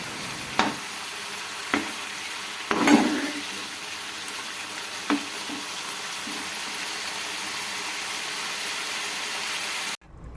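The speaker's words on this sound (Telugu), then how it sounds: "గార్నిష్ చేసుకున్న తర్వాత ఇంకొద్దిసేపు మనం దీన్ని ఒక 2 to 5 మినిట్స్ వరకు ఫ్రై చేసుకోవాలి" Mutton kofta curry (meatball curry) fries steadily in a pan, a continuous soft sizzle broken by several sharp scrapes and knocks of a spoon stirring, before cutting off abruptly near the end.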